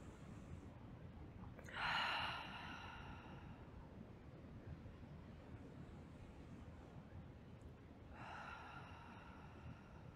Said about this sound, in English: Just breathing in nice and easy a couple more times.